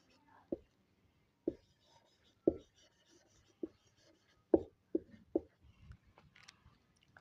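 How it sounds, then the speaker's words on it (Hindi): A pen writes out the given data of a school math problem on paper, giving a handful of short, distinct scratching strokes spaced about a second apart, close and fairly quiet. "पहले लिखेंगे गिवन डाटा"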